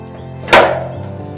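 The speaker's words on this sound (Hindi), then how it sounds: "इतनी जोर से दरवाजा खटखटा रहा है।" A single sharp, loud knock on a door lands once, hard and close, with a short ringing decay over a low background hum.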